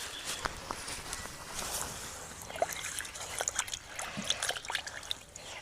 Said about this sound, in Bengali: এবার খুব ভালো করে ধুয়ে নেবো